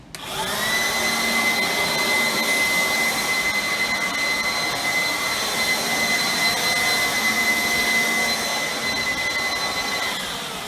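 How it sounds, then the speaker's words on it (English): Air blower clearing dust off a sprung dance floor before vinyl Tarkett is laid, a loud continuous whooshing whine that spins up and holds steady for about ten seconds, alone without talk. "So I got a blower"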